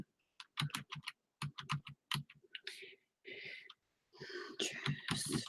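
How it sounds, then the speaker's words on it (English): Rapid clicking of a computer keyboard during a livestream, typed in quick bursts with short pauses, close and fairly quiet, mixed with faint whispery breaths. "I'm doing good at typing tonight."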